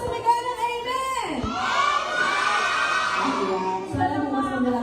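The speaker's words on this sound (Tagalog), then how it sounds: "Lahat ng babalik bukas, sumigaw ng amen!" Children gathered at a church vacation Bible school yell together in one big drawn-out shout, loud and close, following a leader's prompt and fading as the leader speaks again.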